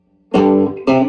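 Distorted electric guitar playing a solo, two loud, sustained, overdriven attacks close up and alone.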